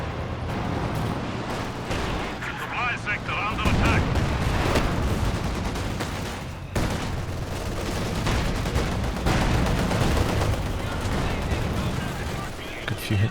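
SU-85 tank gunfire in a Company of Heroes 2 two-versus-two battle: a dense, continuous din of shots, blasts and rumbling fills the whole stretch, with heavier bursts near the middle and someone talking under it.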